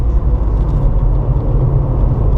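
Porsche 997 Targa 4S engine on track at Circuit de Bresse, a steady low rumbling drone heard from inside the car, loud and constant with no talk over it.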